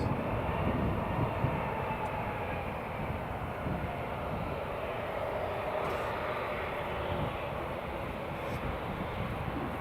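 An Air France airliner arriving at Newcastle International Airport makes a broad, steady jet roar that holds at an even level throughout, with no pauses.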